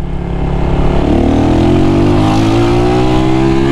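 A brand-new MISSILE 250cc timing-chain engine motorcycle revs loud and close on a test ride, its engine note climbing steadily in pitch under acceleration, alone without talk.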